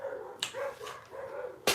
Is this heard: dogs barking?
yes